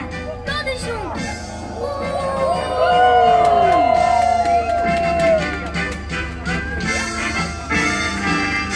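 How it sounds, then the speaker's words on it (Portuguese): A crowd at a Beto Carrero theme park train show jeers at the bandits with long, rising and falling boos and shouts that swell and hang in the air, loud and close. "Vamos dar uma grande vaia nesses bandidos, pessoal!"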